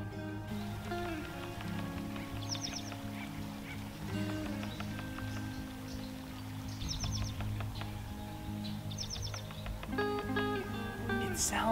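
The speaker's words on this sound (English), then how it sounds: "Do you hear those birds?" Birds call on a nature hike, with repeated honking, goose- or duck-like calls in bursts over a steady outdoor background hum, moderately near, with no talking.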